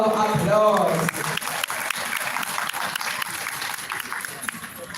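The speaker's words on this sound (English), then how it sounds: "Please give them another round of applause" Conference attendees give a round of applause that holds steady for several seconds while a voice is heard speaking over the start of the clapping.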